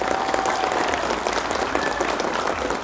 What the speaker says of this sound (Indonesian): Tepuk tangan untuk Baitul Mubarak.